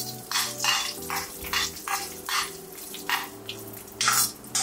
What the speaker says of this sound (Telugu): మటన్ కొంచెం ఫ్లేమ్లో పెట్టుకుని ఫ్రై చేసుకోవాలి.